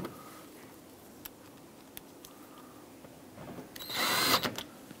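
A power tool drives T20 screws into plastic on a 2013-2020 Nissan Pathfinder during a fog light install, with a few faint clicks and then a short, loud whirring burst near the end, close up with no talk.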